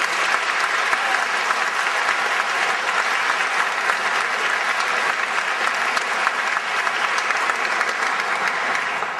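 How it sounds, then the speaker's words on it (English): A large graduation audience applauds the color guard from the Marine Academy of Science and Technology, a dense, sustained roar of clapping filling a big space steadily from start to finish. "Would you first please join me in a round of applause for the color guard from the Marine Academy of Science and Technology."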